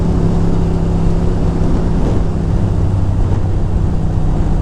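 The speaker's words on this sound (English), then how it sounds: "That is a very big tractor." A large John Deere combine tractor rumbles past in a loud, steady, low engine drone that swells slightly as it goes by on a rural road, heard from a touring motorcycle.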